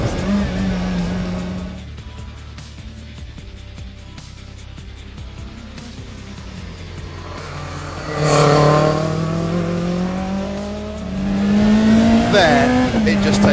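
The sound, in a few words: Group B rally car accelerating and driving fast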